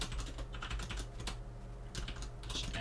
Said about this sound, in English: Wow, my typing skills.